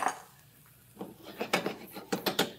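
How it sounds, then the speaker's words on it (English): Sausage being mixed with tomatoes and rice for stuffed bell peppers, heard as soft then sharper clinks and scrapes of a utensil against a bowl or pan, irregular and fairly quiet. "We're going to mix the sausage with this."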